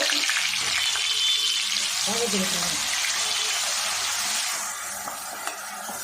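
Coarsely ground shallots frying in hot oil for a chicken fry, a loud, steady sizzle close by that eases slightly toward the end, with no talking.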